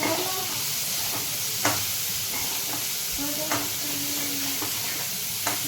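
Onion frying in a pan for matar paneer: a continuous close hiss and sizzle with occasional spatula knocks and scrapes against the pan, steady throughout.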